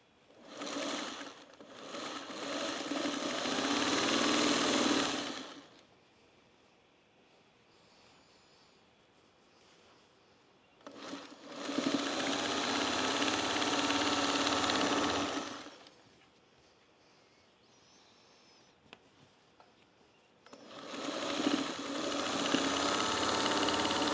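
Domestic sewing machine stitching a seam on a quilt house block, running in three long steady bursts of several seconds each, separated by near-silent pauses, fairly close and alone with no talk.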